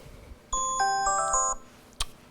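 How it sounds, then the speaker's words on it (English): A phone alarm goes off in a quiet room with a short bright melodic chime of stacked ringing tones lasting about a second, followed by a single brief click-like knock. "So that's my alarm, which was set because I know I had to get to this other appointment."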